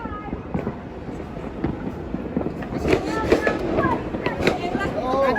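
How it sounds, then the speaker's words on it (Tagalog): New Year fireworks pop and crackle at a distance, with scattered bursts and whistling rises over crowd chatter and voices. "Ayan na po mga fireworks strike na sila o."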